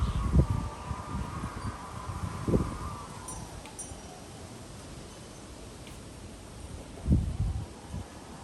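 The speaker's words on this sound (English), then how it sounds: "Man, it is windy out here." Wind roars in gusts through trees, with rustling broadband noise swelling and fading and a couple of stronger bursts of wind buffeting the microphone.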